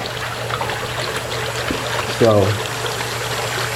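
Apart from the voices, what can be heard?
water flowing into DIY CNC plasma table water tray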